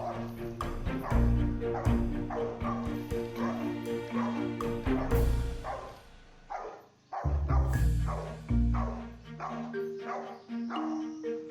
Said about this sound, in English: the formidable barking of the Rottweiler